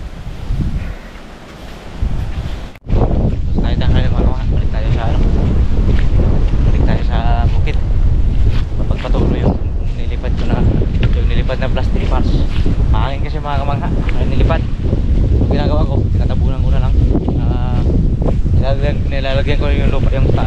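Strong wind buffets the microphone in a loud continuous roar, with a voice talking underneath it, outdoors in a field laid with plastic mulch.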